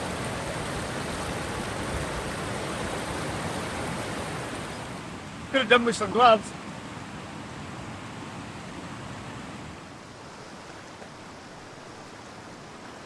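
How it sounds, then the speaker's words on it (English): A small clear stream flows in winter, a soft, steady wash of water heard from nearby, with a brief burst of handling noise and a short spoken remark midway. "Little streams like this and little rivers like this everywhere."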